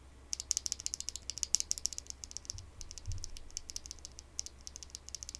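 Rapid clicky keystrokes on a mechanical keyboard with lubed Gateron Slate switches, steady typing bursts with sharp bright clacks and a couple of deeper thocks, close and alone.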